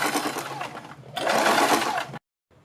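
Electric sewing machine running stitches around a kurti neckline alongside buckram, a steady whirring burr in two bursts with a brief slowdown between, then it stops abruptly; close and alone.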